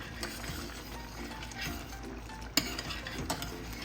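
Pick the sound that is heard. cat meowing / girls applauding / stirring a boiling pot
stirring a boiling pot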